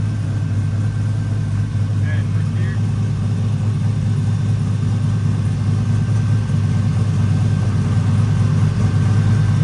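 A turbocharged LS V8 in a Chevrolet C10 truck with a repaired crossover pipe idles at about 1,000 RPM: a steady, close, deep rumbling throb that stays even throughout.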